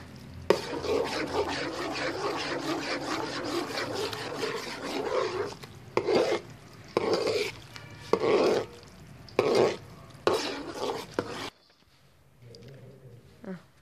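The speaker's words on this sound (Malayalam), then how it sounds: "ഇങ്ങനെ നമ്മൾ നല്ലോണം അത് ഇളക്കിക്കൊണ്ടിരിക്കുക" Grated coconut being stirred in hot oil in a pan while coconut oil is made, heard as a steady scraping rasp with a soft sizzle, then as a run of separate stirring strokes before the clip goes quiet.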